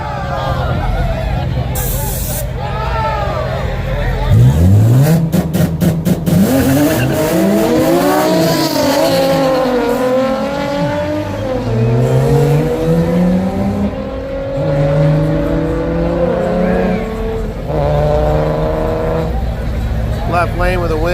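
Drag racing cars running nitrous at the Yello Belly Dragstrip, engines revving and rising in pitch through loud launches and passes, with tire squeal and a crowd murmur underneath, plus an announcer's voice over the noise.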